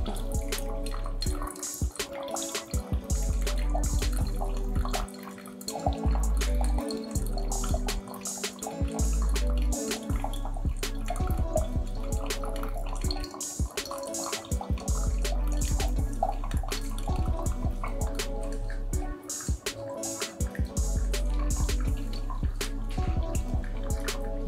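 Hot water poured from a kettle onto ground coffee in a Paragon brewer from Nucleus Coffee Tools, a steady close pouring trickle that runs continuously with brief breaks and no talking.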